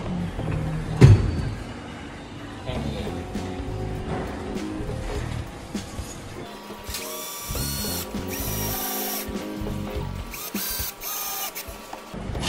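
A power tool drives bolts while a bubble tea kiosk is assembled, producing bursts of rapid ratcheting, whirring mechanical chatter, louder and denser in the later part, with a sharp knock near the start.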